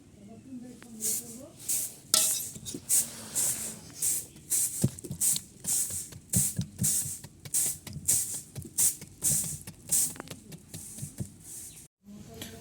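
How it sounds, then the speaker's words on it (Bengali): A knife chops ash gourd into small pieces on a board for morabba, with a steady series of close, crisp cuts at roughly half-second intervals, briefly pausing near the end. "এই খোঁচানোর পরে এগুলো ছোট ছোট করে টুকরো করে নেব"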